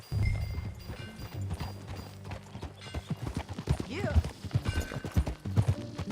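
Horse hooves clip-clopping at a riding pace in the Red Dead Redemption 2 video game, uneven rhythmic thuds over a low music bed, with a brief whinny and a short spoken word.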